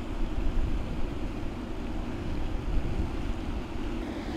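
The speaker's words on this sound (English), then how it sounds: "It is really windy today." Strong wind gusting outdoors at a lake while fishing for bluegill, a steady low roar of buffeting wind noise close to the microphone with no talking.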